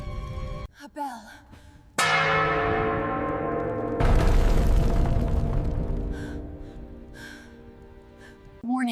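A loud bell strikes and rings out with a long shimmering decay, then a second heavier clang booms and fades slowly, with faint breathy sounds between.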